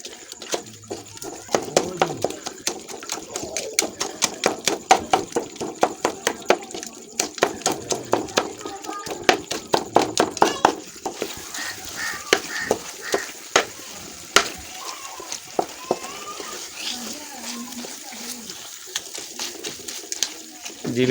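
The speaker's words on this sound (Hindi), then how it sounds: "जो हमारे पास लकड़ी का बड़ा चम्मच है उसको कैसे इसके साथ मिक्स करना है" Makhandi halwa stirred with a large wooden spoon, giving a steady run of scraping, tapping strokes in a pan, close and fairly loud, with cooing pigeons and a voice talking in the background.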